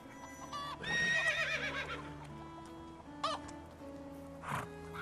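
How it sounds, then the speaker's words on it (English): A young male horse neighs and whinnies in a medieval farming game, with a long wavering whinny up close, a shorter call partway through and another near the end, over a steady ambient farm hum with fowl-like calls. "looks like here's our young male horse I named Strider"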